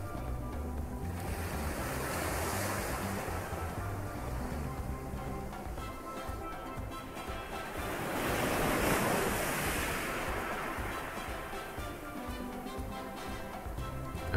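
Gentle ocean waves wash onto a beach in a calm, continuous hiss of surf that swells softly around the middle, heard at a moderate distance with light wind and no voices.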